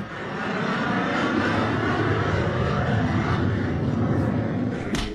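An airplane passes overhead in Minsk, a steady broad roar holding loud and close for several seconds, then starting to fade at the end.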